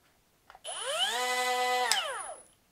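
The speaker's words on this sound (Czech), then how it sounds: "Když povolím pojistku, bruska funguje." A Bosch GWG 12V-50 S cordless angle grinder spins up with a quick rising whine, holds a steady high-pitched motor tone for over a second, then winds down, heard alone and close.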